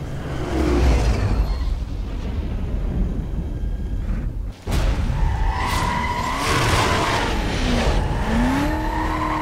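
Lamborghini Urus SUV in the NFS Most Wanted racing game, tires skidding and squealing over a steady engine drone, with a brief dropout partway through and rising screeches near the end.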